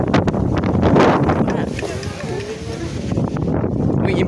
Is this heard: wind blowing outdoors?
yes